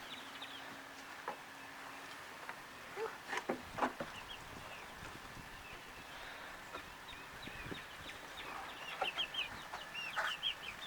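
Chickens cluck and chatter around a backyard chicken coop, a steady low-level flock sound with scattered louder calls and a few sharper bursts, fairly distant and alone without talk.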